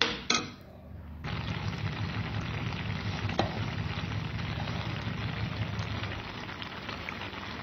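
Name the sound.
garlic spinach (palak) sizzling in pan as cream is added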